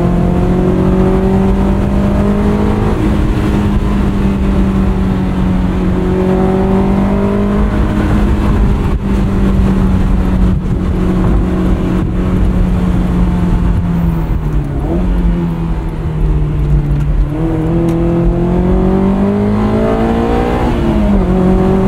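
A 2003 Honda S2000 engine pulls loud and close, its pitch climbing steadily and dipping at gear changes before rising again, with no voices over the continuous drone.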